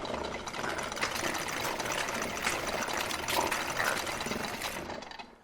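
Dust Ponds texture from the Orchestral Tools Illuvia library: a dense, steady, grainy mechanical rustle with fluttering clicks, sustained at an even level for about five seconds before fading out.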